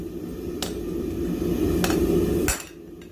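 Blacksmith hammer peening over hot metal at a forge, three sharp metallic strikes spaced about a second apart over a steady low roar of the fire, then quieter after the last blow.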